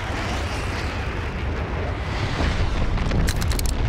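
An airstrike explosion in the video game Dirty Bomb, a sustained loud rumbling roar of blasts that swells toward the end, with sharp crackling hits.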